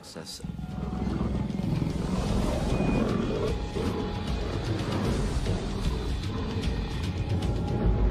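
Several lions in an enclosure give deep, rumbling roars and growls that run on without a break, loud and close, with a voice talking over them.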